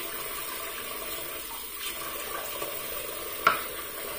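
Hot water runs from a tap into a bathroom sink while a shaving brush is wetted, a soft, steady trickle at close range with a brief splash near the end.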